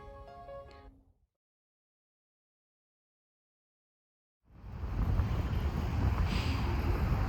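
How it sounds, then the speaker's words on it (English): Heavy wind buffets a microphone outdoors in a roaring rush that bursts in after a few seconds of silence, following a brief faint tonal sound at the start. "Sorry about the wind"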